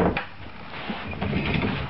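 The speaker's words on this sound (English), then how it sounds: "this drawer pulls out." A sofa bed's storage drawer is pulled out from under the seat in a bedroom, giving a soft, low sliding scrape with faint knocks, fairly quiet and heard alone.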